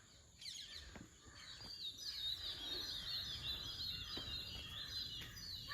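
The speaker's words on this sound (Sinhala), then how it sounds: "ඇහෙනව නේද කුරුල්ලන්ගේ සද්දේ" Birds chirp and call in a home garden just after grass cutting, a steady chorus of high, busy twittering from several birds at moderate distance over a faint outdoor background, with no one talking.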